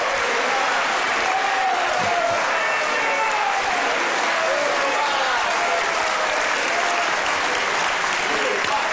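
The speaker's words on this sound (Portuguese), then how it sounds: "eu peço uma salva de palmas aos 4 candidatos" A studio audience applauds steadily for four presidential candidates at a televised Brazilian presidential debate, a dense, even clapping that fills the whole stretch without a break.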